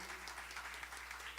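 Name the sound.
congregation applauding in church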